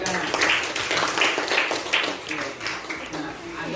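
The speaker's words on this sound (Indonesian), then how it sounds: "kita berikan tepuk tangan dulu untuk mereka" Classroom students clapping for classmates, a brief scattered round of hand claps at moderate level, uneven and loose in rhythm, with faint voices underneath.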